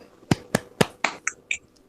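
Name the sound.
class doing a rhythmic spirit clap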